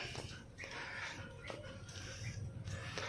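A dog snuffles and whimpers softly close by, with faint breathy huffs over a low steady background hum.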